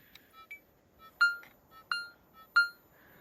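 Manticore metal detector sweeping a buried coin target in a Spanish test garden, giving a series of short electronic beeps and tones, three louder ones ringing out clearly in an otherwise quiet field.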